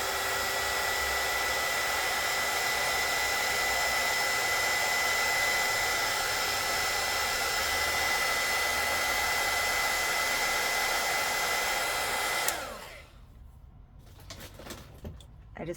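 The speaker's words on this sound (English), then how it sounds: "I'm just going to use my heat gun for a second." Heat gun blowing steadily and loudly for about twelve seconds while drying lip work, with a constant airy roar and whine, then cut off abruptly, leaving faint room noise and small handling sounds.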